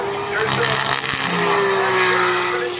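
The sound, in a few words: BTCC touring cars racing at Brands Hatch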